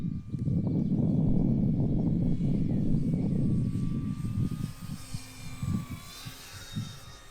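Dynam P-47D Thunderbolt RC model warbird flying overhead, its electric motor whining and droning loudly, then fading and shifting pitch as it passes and turns farther away.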